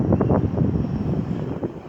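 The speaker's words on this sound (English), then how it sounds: "Look at the wind, look how windy it got." Strong outdoor wind buffets the microphone in an uneven low roar that swells and eases over a couple of seconds, with no one talking.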